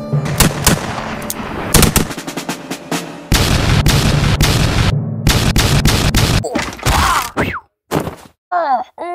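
Bursts of loud gunfire, with rapid automatic volleys and single shots in choppy clusters separated by brief gaps, mixed with other effects and ending in a few fainter warbling sounds.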